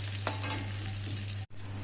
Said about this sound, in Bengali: ভেজে নিচ্ছি মুড়োগুলো।